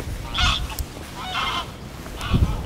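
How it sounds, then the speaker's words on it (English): Large geese flying in over a lake, three loud honking calls spaced about a second apart, close and clear above light wind. "Big geese."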